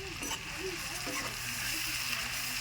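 Chicken curry masala with turmeric, curry leaves and tomatoes fries in oil with a steady close sizzle, moderately quiet, while a spoon occasionally stirs through it.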